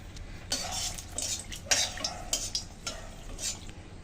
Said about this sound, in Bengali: এখন ফোড়নে দিয়ে দিচ্ছি 2টো শুকনো লঙ্কা